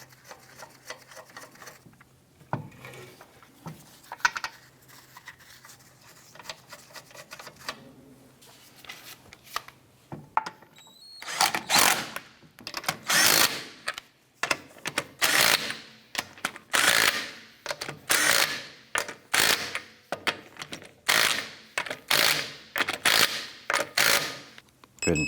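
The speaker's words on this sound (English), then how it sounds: "Once we get the lug nuts all started by hand, we're going to go ahead and snug them down." A ratchet snugs down lug nuts on a 2004-2008 Acura TL rear wheel during a hub assembly job, giving loud, rapid bursts of clicking in a steady repeating rhythm after a quieter stretch of shop noise, with no talking.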